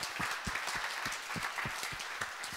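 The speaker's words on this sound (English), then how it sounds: "let's give a big round of applause to Eric" An audience at an Ember.js meetup in New York applauds steadily, a dense wash of clapping that holds at an even level throughout.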